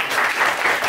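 Applause from an audience at a parliamentary debate event, honoring the government and opposition teams, a brief burst of steady, dense clapping from a crowd, loud and close.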